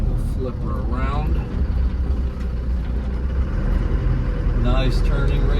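A 1996 Land Rover Defender 90 with a 300Tdi diesel engine and stock 235/85 tires runs steadily in second gear while turning around, a close continuous low engine drone with someone talking over it.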